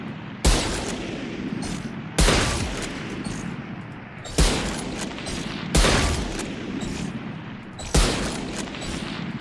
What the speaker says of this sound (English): Those are all hip shots.